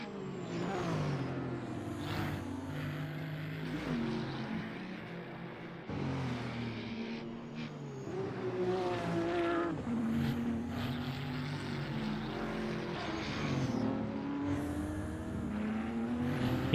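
A Ferrari race car's engine revs and shifts through gears during an NLS endurance race, its loud rising and falling pitch sweeping repeatedly as it drives on, with no voices heard.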